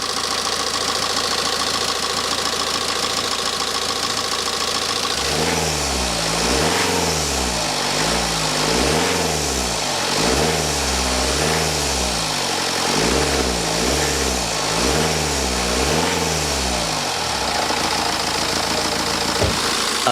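A diesel engine with a snapped glow plug idles and then revs repeatedly, its rough running rising and falling in a steady series of close, loud rev cycles before settling back down.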